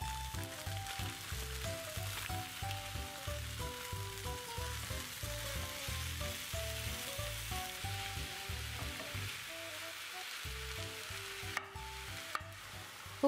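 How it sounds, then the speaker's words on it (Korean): Minced beef and tomato stir-fry together in one pan for a cheesy bolognese pasta, with a steady sizzle under rhythmic, repeated spatula scrapes and stirring strokes, close up and with no talking. "소금 두 꼬집 정도 뿌리고 완전히 익을 때까지 볶아주세요"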